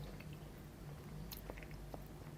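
Chewing of Lidl beef ravioli, soft squishy pasta with beef filling, heard as faint wet mouth sounds with a couple of brief louder bites over a steady low hum.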